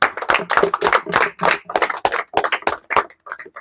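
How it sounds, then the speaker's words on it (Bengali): Loud, fast hand clapping from a group comes in quick, uneven bursts during a lively counting game, near and sharp, with only brief gaps between volleys. "জোরে করে হাততালি হবে"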